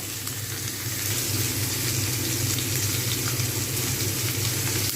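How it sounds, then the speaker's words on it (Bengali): Mixed vegetables frying with salt in a pan give a steady, close sizzle that holds evenly throughout with no talking. "এগুলো এমনি ভাজা হবে লবণ দিয়ে ভাজা হলে তাড়াতাড়ি হয়ে যাবে"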